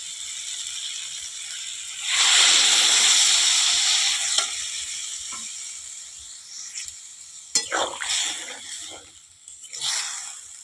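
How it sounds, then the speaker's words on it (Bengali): Water hits a hot pan of fried spice mix for a homestyle bean, potato and eggplant chorchori, setting off a loud, hissing sizzle that surges for about two seconds and then settles into softer bubbling with a few scrapes and clinks. "এবারে জল দিব।"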